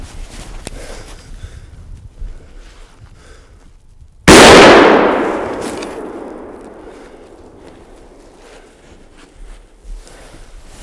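A single loud hunting rifle shot in the Canadian Rockies cracks out sharply and rolls away in a long, fading echo, with quiet rustling before and after.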